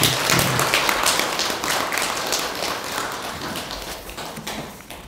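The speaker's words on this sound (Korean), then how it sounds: "박수 한번 쳐줘야지" Audience clapping at a Won Buddhist Sunday service in a temple hall, a dense patter of hands that is loud at first and slowly thins and fades over a few seconds, with no talk.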